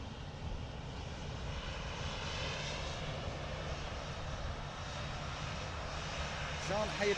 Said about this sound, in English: Ryanair is definitely getting down to us.